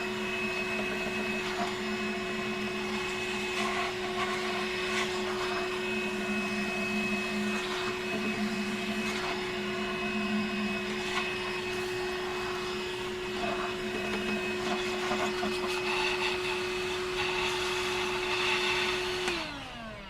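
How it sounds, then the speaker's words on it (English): DeWalt vacuum blower blowing out an RV water heater roars loudly and steadily for about twenty seconds with a whining hum, then winds down at the end. "So let's get our little DeWalt vacuum blower hooked up."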